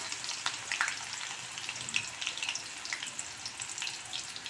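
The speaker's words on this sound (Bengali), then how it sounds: "যখন ফুটবে তখন আমি আমলকিটাকে পুরো আমি গ্রেট করে নিয়ে ওর মধ্যে দিয়ে দিয়েছি।" Grated amla frying in hot oil in a pan, a close steady sizzle with crackling pops scattered throughout, fairly soft and with no voices.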